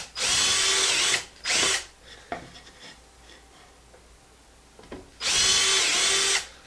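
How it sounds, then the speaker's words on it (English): A Hercules 12 volt screwdriver drills holes over a dog bowl, with loud whirring bursts of a few seconds each separated by quiet pauses and small clicks and handling noises. "I can easily drill the 3 holes."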